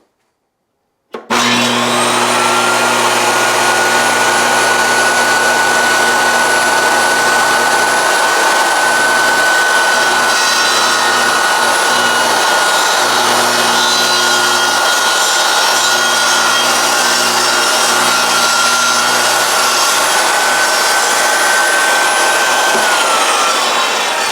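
A SawStop compact table saw, model CTS-120A60, spins up and runs loud and steady through a test cut in wood, a continuous high whine with a low motor hum and faint cutting texture, winding down near the end.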